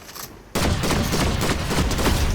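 Rapid cube rifle gunfire in Fortnite, a dense continuous burst of loud close shots that starts abruptly after a quiet half-second and keeps hammering without pause.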